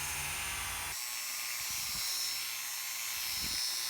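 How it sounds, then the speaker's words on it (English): A rusty high-carbon steel hi-lift farm jack is being ground, producing a loud, continuous buzzing grind that shifts in tone after the first second and then holds steady, close and alone. "grinding, grinding, grinding, into the evening grinding"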